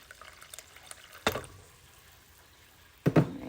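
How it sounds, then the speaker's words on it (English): Water poured by hand over a coffee-dyed paper bundle for a junk journal, two short splashing pours about two seconds apart, close and fairly quiet with no talk. "I may need to add some more water"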